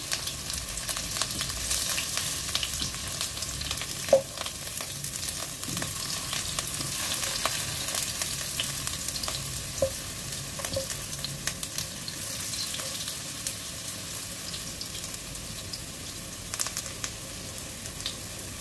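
Food browning in oil in a home kitchen pan, a steady close sizzle throughout with occasional soft clicks and scrapes as pieces are turned over, no voices.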